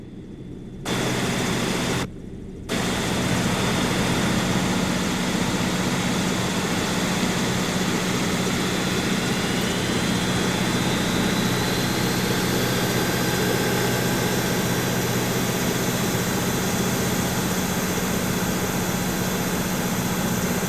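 Steady, loud engine drone in an airport ground-operations simulation game, a constant low hum with high whining tones that cuts in after two brief gaps and runs on without a break.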